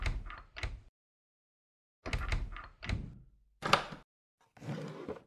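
A drawer sliding open in a video game set in a clinic, heard as a series of short wooden thunks and scrapes with brief gaps between them, fairly close and clear with no talking.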